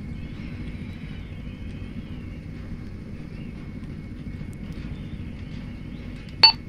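A helicopter flies in a military video game, making a steady, low rotor and engine drone for several seconds. A short, sharp click sounds near the end and there is no talking.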